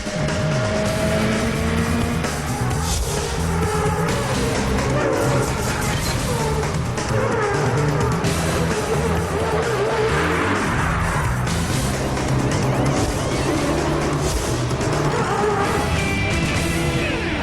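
Champ Car race cars in final qualifying at the Autódromo Hermanos Rodriguez in Mexico City, 2002, engines screaming loud and continuous as cars pass and rev, with no talk.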